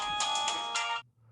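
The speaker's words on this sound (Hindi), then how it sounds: "किसका फोन आ गया?" A short electronic phone ringtone chimes in a quick melodic burst, then cuts off abruptly into near silence.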